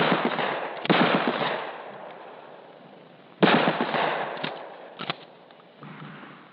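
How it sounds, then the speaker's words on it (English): Shotgun blasts on a police training range from a 1974 FBI firearms film, three loud booming shots spaced a few seconds apart, each trailing into a long echoing decay through band-limited vintage film sound. "Offhand aimed fire is best suited to longer ranges."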